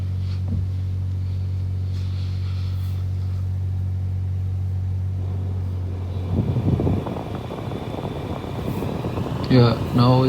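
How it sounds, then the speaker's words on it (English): Cooling fan and engine of a 2015 Citroen C4 Grand Picasso with a faulty radiator fan, running as a steady low hum. After about six seconds a broader whoosh joins the hum, with a few sharp chirps near the end. "now let's start the car and see if it's cold air and the fan is working or not"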